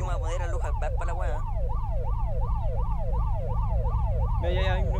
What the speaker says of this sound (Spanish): Estoy con la sirena.